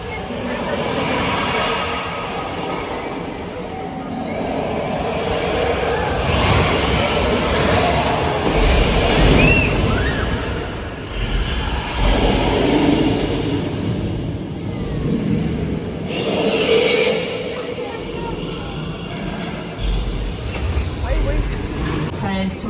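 Universal Studios Hollywood backlot tour tram rolling through the outdoor metropolitan sets, a steady loud rumble of engine and wheels over roughly twenty seconds, with a guide talking over it throughout.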